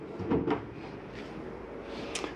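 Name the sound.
small RV drawer opening or closing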